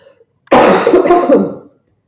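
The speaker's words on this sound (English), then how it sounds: "I hate coughing." One harsh, loud cough up close, a rough burst lasting about a second before fading out.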